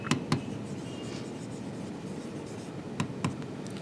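Pen or pencil strokes scratch across paper in quiet bursts, a few short rasping marks at the start and again near the end, alone with no voice.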